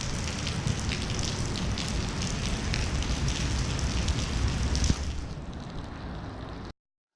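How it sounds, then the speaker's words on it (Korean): Heavy rain on a car during a night drive from Busan to Seosan makes a steady, loud, hissing drum throughout, with a single thump near the end before the sound cuts off. "비가 오는 가운데 부산에서 서산으로 이동 중에 있습니다"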